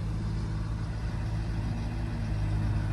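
A ROPA Maus sugar beet loader from 2000, with a nearly 200 kW (270 hp) engine driving its hydraulics, idles with a steady low diesel drone and hum, constant and moderately distant with no voices.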